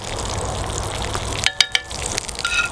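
Pure butter sizzling in a hot cast iron pan beside a barbecued tandır burger, a steady crackling fry with a few sharper spits and pops partway through, close and moderately loud.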